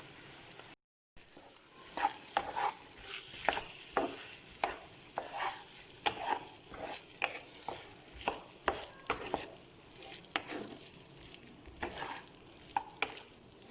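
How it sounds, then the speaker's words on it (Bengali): A spoon stirs coriander leaves and green chilli into dum aloo, sending a regular run of scraping strokes, roughly one a second, over a low sizzle in the pan. "ধনেপাতা দিয়ে দিলাম আর কাঁচা লঙ্কা দিয়ে দিলাম। ভালো মতো মিশিয়ে নিচ্ছি।"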